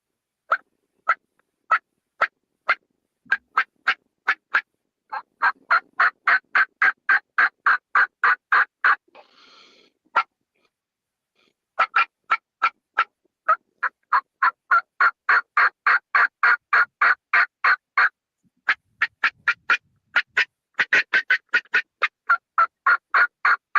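A turkey mouth call imitates hen yelps, sharp rhythmic runs of clucks and yelps in repeated series with short pauses, loud and close, delivered alone without talk.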